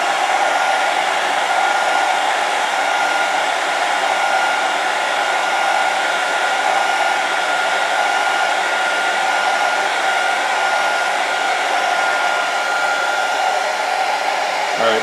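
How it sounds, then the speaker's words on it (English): A hot-air heat gun flash-curing screen-printed ink on a test shirt blows a steady, loud, continuous roar from start to finish, with no voices. "flash cure it right now because we're going to put it into the heat press for a full cure"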